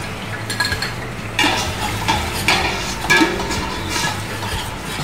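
Onion sautéing in a pan for creamy mushroom soup, a soft steady sizzle overlaid by several loud scrapes and clinks of a utensil against the pan, close by without speech.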